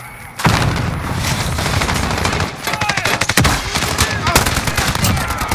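Heavy gunfire and an explosive grenade blast in Call of Duty Modern Warfare multiplayer, with sustained rapid automatic fire, sharp cracks and a loud boom mid-clip, dense and close throughout.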